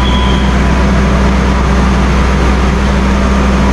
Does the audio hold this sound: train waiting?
yes